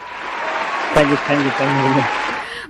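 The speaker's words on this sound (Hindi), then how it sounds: "तो आपके लिए बजती हैं तालियां" Inserted applause on a radio call-in show plays as a steady wash of clapping, while a voice speaks briefly over it in the middle.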